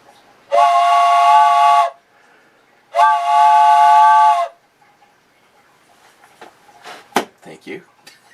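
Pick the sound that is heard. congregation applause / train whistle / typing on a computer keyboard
train whistle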